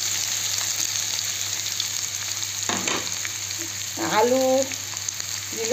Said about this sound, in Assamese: এইবাৰ আলুখিনি ইয়াতে দি দিলোঁ